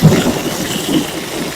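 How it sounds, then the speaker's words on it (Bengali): Low rolling thunder rumbling through heavy rain, a loud deep roar that swells at the start and again midway, then slowly fades, with no voices. "বাজ করছে কেরকম।"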